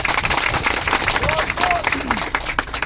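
A political rally crowd claps in a dense, continuous patter while a voice talks over the applause.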